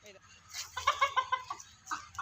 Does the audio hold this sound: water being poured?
no